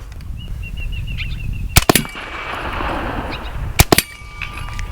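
Hatsan Blitz .30 cal air rifle firing full auto outdoors: two quick bursts of sharp, rapid cracks a couple of seconds apart, set against steady outdoor background noise with birds chirping faintly.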